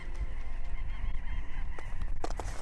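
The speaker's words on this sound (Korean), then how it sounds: "저 멀리서 들려오는 새소리" Distant birds honking and calling in Svalbard, goose-like cries over a low background rumble, with louder calls near the end.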